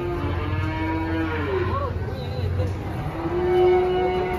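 Cattle at a livestock market moo repeatedly in long, low drawn-out calls, one swelling louder near the end, over a busy background hum with a voice talking.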